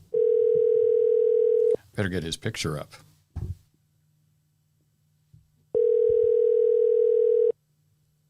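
A telephone call is placed to a congressman: a long, steady ringback tone sounds, voices talk briefly, then after a short quiet the same tone rings out again at equal length.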